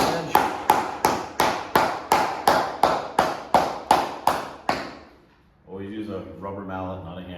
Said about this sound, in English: you take the hammer, you put it into the first section of the previous board, tap it down kind of lightly